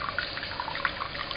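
A thin cooling water stream trickles from a tap into a 2.5-inch copper reflux still column, a steady soft splashing and gurgle with small irregular drips, close by and fairly quiet, with no talking.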